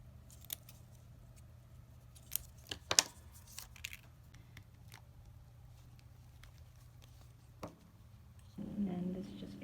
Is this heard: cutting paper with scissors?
yes